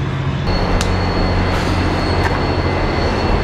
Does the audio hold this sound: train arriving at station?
yes